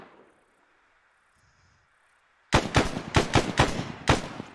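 Rapid bursts of automatic gunfire in the Arma military game, set in a jungle, start abruptly after a near-silent stretch and then crack out loud and close in several quick volleys.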